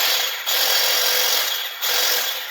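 A Ryobi 18-volt cordless single-speed hedge sweeper runs close by with a loud, steady high-pitched whir, briefly dipping twice before surging back to full speed.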